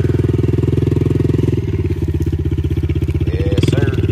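A Yamaha PW-50 dirt bike engine in second gear, buzzing steadily and loudly close by with a fast, even pulse and a slight shift in tone partway through.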